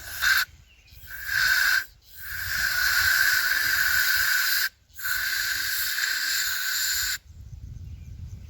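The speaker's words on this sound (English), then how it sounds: "Got some brake clean. I'm gonna go down here in this valve" Brake cleaner hisses from an aerosol can into the valve of a flooded, seized Briggs and Stratton tiller. The spray comes close and loud in several sustained bursts, with brief pauses between them.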